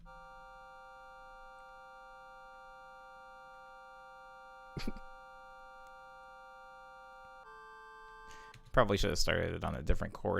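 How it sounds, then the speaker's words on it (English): Ring-modulated synthesizer tones in a home studio, steady sustained pitched drones with a sharp click midway and a shift in pitch near the end, followed by someone speaking. "And we have here a ring mod."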